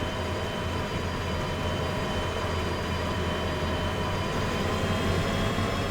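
A very long, heavy freight train, roughly two kilometres of cars, runs in the video game Derail Valley as a steady, dense rumble with faint wheel squeal that holds even and loud without a break.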